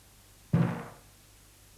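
A drum struck gently gives two soft, low thuds about a second apart, each with a short decaying boom, quiet and close in an otherwise still room.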